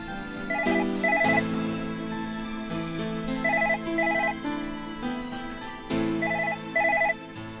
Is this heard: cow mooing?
no